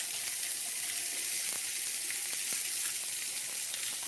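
Sweet onion sizzles in a hot frying pan during country breakfast cooking, a steady bright hiss with small crackles and pops throughout, close and without talk.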